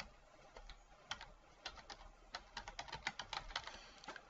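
Computer keyboard typing in a quiet room, with scattered keystrokes turning into a quicker run of crisp, faint clicks.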